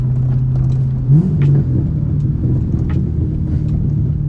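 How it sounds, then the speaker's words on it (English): Car engine rumbling steadily, then a short throttle blip during a clutch-in downshift from third to second, the revs rising briefly before settling back to a continuous drone. "I'm going to clutch in, blip the throttle slightly to match the revs on here as I shift from third to second"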